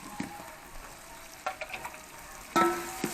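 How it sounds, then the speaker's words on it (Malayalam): Cooked beef liver tipped into a hot pan and stir-fried for a spicy liver fry, giving soft sizzling with a few sharp scraping stirs and a louder sizzle burst near the end, with no talking. "വേവിച്ച് വെച്ചിരിക്കുന്ന ലിവർ ഇതിലേക്ക് ആഡ് ചെയ്ത് കൊടുക്കാം."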